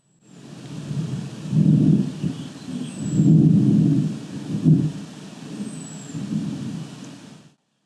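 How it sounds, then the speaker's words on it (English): Thunder rumbles low and heavy during a backpacking trip in Golden Gate Canyon, Colorado, rolling in several swelling waves over about seven seconds before fading out. "That was thunder."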